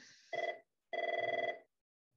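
A landline telephone rings twice, a short electronic burst followed by a longer trilling ring, clear and fairly close in an otherwise quiet room.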